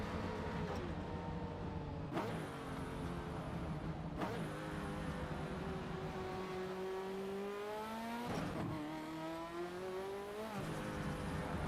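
A race car on slick tyres revs hard in a racing video game, its steady engine drone rising and falling in pitch through repeated gear shifts with brief sharp breaks, loud and continuous throughout.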